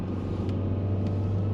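A rental car engine strains at full throttle climbing a steep road, a constant deep droning rumble from inside the car, with no talk.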